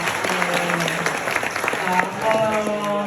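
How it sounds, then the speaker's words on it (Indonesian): Applause fills a school auditorium during a nutrition and entrepreneurship outreach session at an Indonesian senior high school, a dense, steady clatter of clapping hands with voices and cheers mixed in. "tepuk tangan dulu ya buat Ibu Berry, ya."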